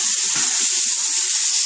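Masala spice paste frying in a pan over low gas heat, a steady close sizzle with a constant hiss running throughout and a few soft stirring knocks underneath, no voices.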